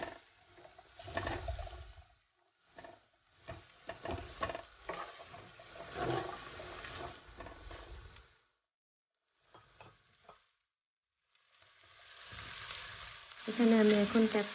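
Beef pasta sauce with chopped green chillies and salt being stirred in a pan, with quiet scraping strokes and soft sizzling coming in uneven bursts and pauses.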